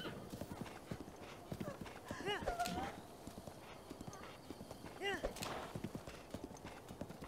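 In The Legend of Zelda: Breath of the Wild, a horse gallops with quick rhythmic hoofbeats, and a whinny rises twice above them, while someone talks over the game sounds.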